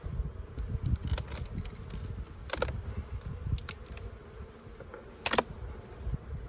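Honey bees buzz around an open hive box at the bottom of the stack, faint scattered drones passing near with brief louder swells, plus a few light clicks and handling sounds.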